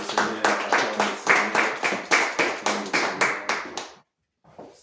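A church congregation claps in praise, a steady run of about a dozen loud rhythmic claps with cheering voices mixed in, then stopping abruptly before a short quiet.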